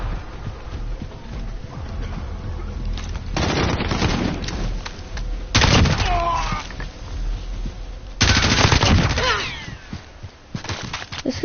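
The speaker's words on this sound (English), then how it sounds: "Precision airstrike inbound." Call of Duty match with a precision airstrike and gunfire, heard as bursts of rapid shots and heavy booming impacts in loud, sustained stretches separated by quieter lulls.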